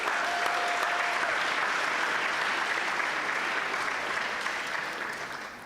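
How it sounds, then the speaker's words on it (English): Dense, sustained applause from a large audience at a closing ceremony of a national Bible competition final, loud and even throughout before tapering off toward the end. "you should give yourselves a round of applause"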